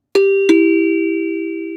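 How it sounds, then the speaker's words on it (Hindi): A doorbell chimes twice, ding-dong, with the second tone ringing out and slowly fading, clear and close in a quiet room. "शाम को डोरबेल के बजते ही नव्या दौड़ती हुई दरवाज़ा खोली"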